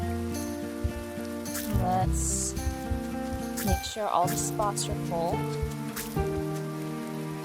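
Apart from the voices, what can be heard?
rain falling in the video game Grimshire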